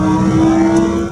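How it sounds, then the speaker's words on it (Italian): Lamborghini Aventador supercar accelerating hard, a loud, steady, close engine roar with a strong low drone holding through the brief burst. "Lamborghini, penso sia un Aventador."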